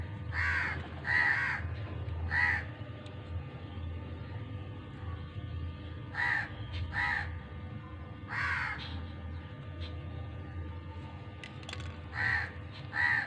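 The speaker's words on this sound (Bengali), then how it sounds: "কাকগুলো কেমন কা কা করছে দেখুন" Crows caw in short bursts of two or three calls, with pauses between them, loud and fairly close over a quiet background.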